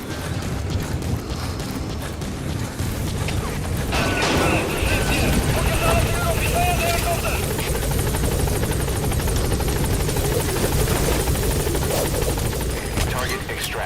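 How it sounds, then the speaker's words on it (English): Steady rotor thrum of a helicopter arriving in Metal Gear Solid V: The Phantom Pain fills the scene from start to finish, loud and close, with brief electronic tones and distant voices layered on top. "helicopter has arrived."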